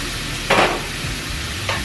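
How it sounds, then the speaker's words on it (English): Bacon fries in a pan with a constant loud crackling hiss, broken by two short bursts of louder spitting or scraping. "I'm just waiting on mom to finish cooking her bacon"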